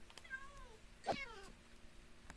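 In a Minecraft horror setting, a cat gives a couple of short meows, one faint and one louder and nearer in the middle, over a quiet background.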